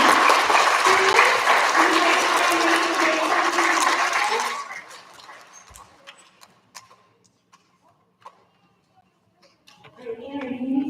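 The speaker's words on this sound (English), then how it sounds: "can we get a nice big round of applause for all of our STEM students?" Loud audience applause for STEM students at a school recognition ceremony fills the first four seconds, then drops to scattered claps and quiet room noise before a voice begins speaking near the end.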